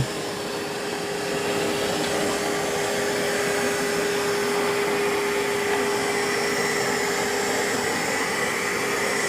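A Narwal Freo Z Ultra robot vacuum and mop cleaning a floor where carpet meets linoleum, giving a steady, loud motor whir with a constant tonal hum, running unbroken and close by.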